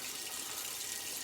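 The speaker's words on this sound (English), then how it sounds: "I'm gonna do a little cold water rinse-a-rooney here" Cold water runs from a tap to rinse a razor, making a constant, close, full rushing splash with no talking over it.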